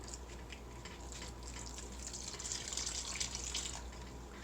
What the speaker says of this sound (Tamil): இப்போது இதை நல்லா தண்ணி விட்டு கலந்துக்கலாம்.